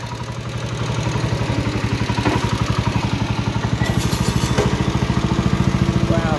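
1970 John Deere 110 lawn tractor engine running, a loud steady single-cylinder putter with a fast even thump that picks up slightly, close to the microphone, with a few faint clanks.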